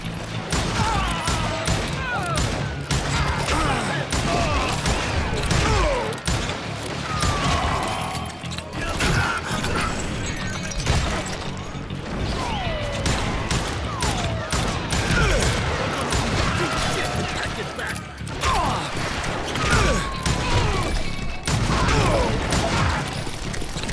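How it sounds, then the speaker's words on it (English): Rapid gunfire and shootout clatter from the Western video game Call of Juarez: Gunslinger, loud dense bursts with crashes and mechanical clicks running throughout, mixed with talking. "They're shooting!"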